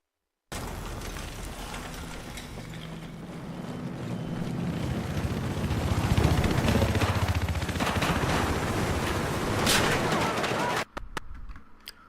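Heavy machine gun fire from a Humvee-mounted gun in Battlefield 4 multiplayer, a dense continuous rattling roar that swells in the middle and then cuts off sharply near the end, with no one talking over it.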